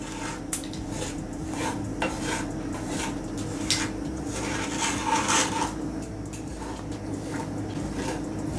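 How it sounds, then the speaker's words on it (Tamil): Semolina roasting dry in a pan for rava kesari is stirred with a spoon, giving soft repeated scraping and rubbing against the metal, quiet and close with faint clinks and no talking. "செய்கிறதுக்கு முன்னாடியே ரவையை கொஞ்சம் லைட்டாக வறுத்து எடுத்துக்கணும்"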